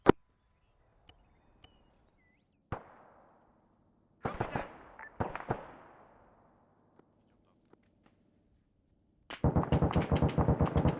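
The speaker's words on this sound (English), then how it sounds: "Alright, open fire. Open fire, let's go." A squad opens suppressive gunfire in a military operation: a lone shot, then several bursts of rapid shots with faint ticks between, ending in a loud sustained volley of automatic fire.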